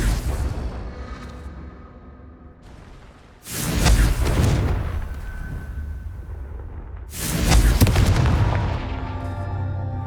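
Two heavy fiery blasts from the Confringo fire spell in Hogwarts Legacy, each a sudden loud boom followed by a crackling, rumbling tail over a low steady game ambience.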